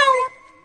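A person imitates a cat's meow with a short, bright, nasal cry that cuts off abruptly, leaving a faint ringing tone behind.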